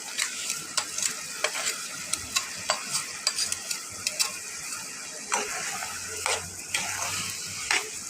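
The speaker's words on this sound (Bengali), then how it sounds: "এটা এখন আমরা ভালো করে মিক্স করে নেব চালটা" Fried rice with potatoes and banana stem being stirred in a pan, a spatula scraping and clacking in irregular strokes over a soft steady sizzle, close and fairly loud.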